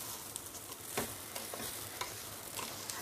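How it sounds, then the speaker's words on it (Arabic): Vermicelli and rice fry in a hot pan while a spoon stirs them. A steady sizzle runs throughout, with occasional soft scrapes and clicks from the stirring and no voices. "بس هقلب فيها بقى لحد ما لونها يحمر"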